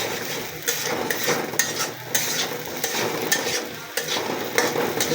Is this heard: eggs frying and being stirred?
yes